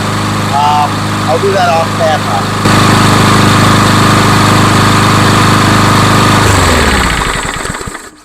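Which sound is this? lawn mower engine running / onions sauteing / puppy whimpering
lawn mower engine running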